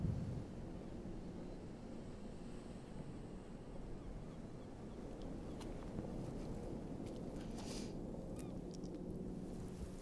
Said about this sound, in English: it's pretty windy up here, pretty exposed